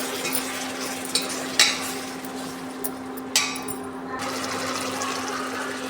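Chili powder stirred into an aloo sandala mixture in a pan, giving a steady soft scraping and sizzling with a few sharper clicks of the spoon against the pan and a low constant hum beneath.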